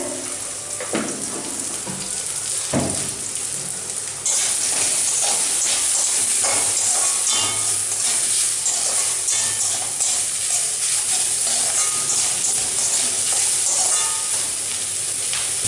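Taro leaf paste ingredients fry and are stirred in a pan after salt, turmeric and sugar are added, giving a steady close sizzle with scraping stirs that grows louder partway through, with no talk.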